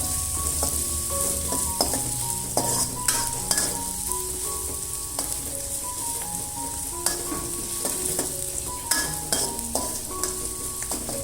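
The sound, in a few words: stir-frying minced shallots, garlic and ginger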